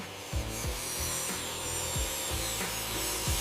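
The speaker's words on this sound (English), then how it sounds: "Sanding to final tolerance." Steady rubbing and scraping of sandpaper on teak wood, with rhythmic strokes repeating about every half second, close and fairly quiet, on yacht restoration work.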